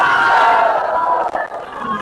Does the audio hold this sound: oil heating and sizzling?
no